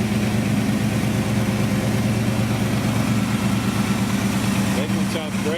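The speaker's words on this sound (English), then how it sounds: "Engine sounds great." A 1973 Chevrolet El Camino SS 454 V8 idles steadily with a loud, close, low rumble that stays even for several seconds.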